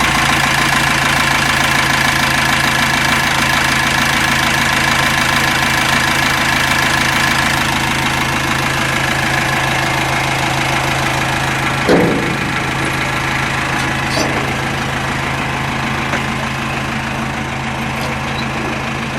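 A 1942 Willys MB jeep engine runs at a steady idle close by, a loud, even rumble with a knocking pulse that continues unbroken, apart from one brief clunk partway through.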